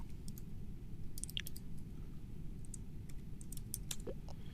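Quick irregular clicks of a keyboard as a command is typed into chat, small sharp taps scattered over a low steady background hum.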